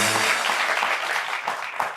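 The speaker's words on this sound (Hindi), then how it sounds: "तालियां बनती है भाई" Studio audience applause on a Pakistani TV talk show, a steady dense patter of clapping for the whole stretch, fairly loud and close, with faint traces of other sound underneath.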